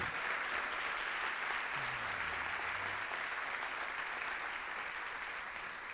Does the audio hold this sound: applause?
yes